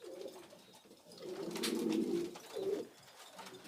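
Pigeons coo in a loft, a couple of soft, rolling low calls close by with brief pauses between them.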